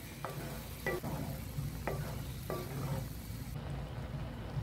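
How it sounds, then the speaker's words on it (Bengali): Spoon stirring pumpkin payesh, a milky Bengali pudding, as it thickens in a pot over medium-high flame, with several soft scraping strokes over a steady low bubbling simmer. "একটু পর পর নেড়ে দিতে হবে যাতে তলায় লেগে পুড়ে না যায়।"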